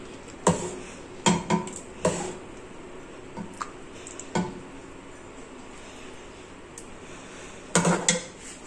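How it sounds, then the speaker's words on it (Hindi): Serving spoon clinking against a metal pot while dishing out lauki chana daal, a series of sharp metallic clanks and scrapes in bursts, fairly close and moderately loud, with no talking. "चलें जी, अब हम डिश आउट कर रहे हैं।"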